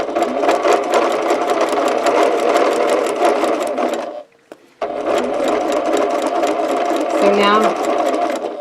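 A sewing machine stitches over quilt seams on a Twinkle Star quilt with a loud, fast, continuous rattle, pausing once briefly before resuming.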